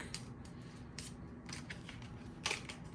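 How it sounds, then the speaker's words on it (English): A deck of playing cards for a Northgard board game being shuffled by hand, quiet repeated riffling bursts and soft card snaps, close and faint, with no talking. "I'm out, so I'm going to shuffle real quick."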